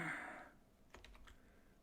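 A keyboard shortcut tapped on a computer keyboard: a few quick, faint key clicks in a short cluster, following a fading rush of background noise.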